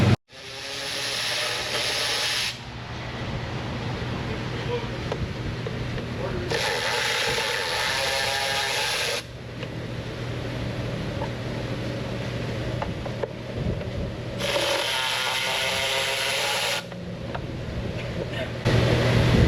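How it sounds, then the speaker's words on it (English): A loud, steady vacuum cleaner roar as it cleans a car lift in an auto repair shop, with bursts of higher-pitched suction that come and go in long stretches, close by. "I think he's vacuuming the lift."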